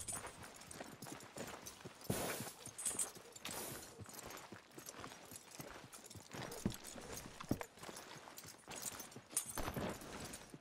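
Horse hooves clip-clopping at a steady walking pace in Red Dead Redemption 2, close and continuous, with soft ambient game sound underneath.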